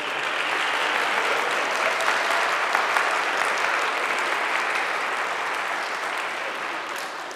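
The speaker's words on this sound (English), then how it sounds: "Let's applaud, let's welcome her, congratulate her." A church congregation applauds a newly baptized woman, a full, sustained round of clapping that fills the space evenly for several seconds and tapers slightly at the end.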